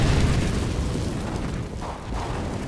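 A fire grenade in CS:GO goes off as a loud, close, rumbling whoosh of flame that holds steady and fades slightly.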